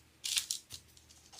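Small eye pieces for bumblebee cake pops being cut out, heard as a few short, crisp snips and cutting scrapes at close range, with a pause between the first cuts and a last snip at the end.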